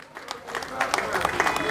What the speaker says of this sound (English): I beg, clap for Jonathan, I beg.